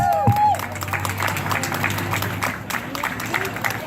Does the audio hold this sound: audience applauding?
yes